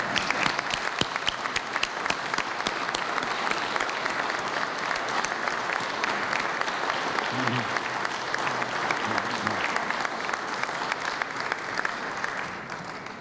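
At an induction ceremony, a large audience stands and applauds to adopt a resolution. Loud, dense, continuous clapping holds steady for the whole stretch, with a faint voice briefly underneath.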